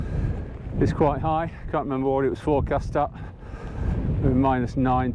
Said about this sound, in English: There's a strong wind